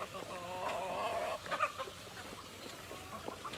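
Chickens cluck in a backyard coop, a brief burst of close clucking calls followed by quieter scattered noises and light rustling.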